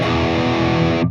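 A heavily distorted electric guitar chord rings through a Fractal cab block with the room reverb set to zero, one loud dry sustained strum that cuts off abruptly after about a second.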